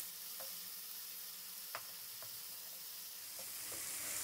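Spiced tomato masala, softened with a little water, fried in a pan as kheema stuffing for Hyderabadi lukhmi: a faint, even sizzle and hiss with a few soft spatula scrapes, no talking.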